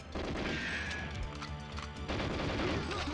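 Gunfire in GoldenEye 007 on the train level as shots are fired at clamps, heard as a dense run of loud crashing bangs and impacts that continues with a brief dip partway through.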